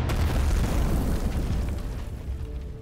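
A loud explosion from a Raag Desh movie trailer, a deep rumbling boom that fills the low end and decays slowly over about three seconds with no voices over it.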